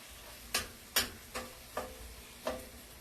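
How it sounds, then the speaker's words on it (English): Roasted tomatoes and white beans being stirred into orecchiette pasta, five distinct spoon knocks against the pot at uneven intervals, close and moderately loud over a quiet background. "And we're going to give those a stir"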